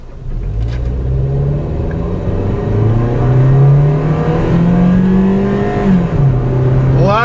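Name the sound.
car engine accelerating while driving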